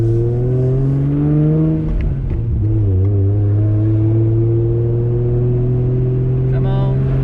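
R33 with a forged RB25DET engine on a drive, heard from inside the car with a loud, droning engine note that climbs as it accelerates, drops briefly at a gear change, then pulls up again steadily.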